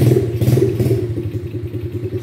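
A 125cc quad bike engine running without oil, revving loud and close with a rough, knocking clatter, then settling into a lumpy, uneven idle.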